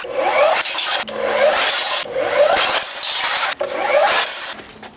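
A troublesome power saw slices through wooden boards in about four loud, close bursts separated by short gaps, during work on a Camaro SS exhaust.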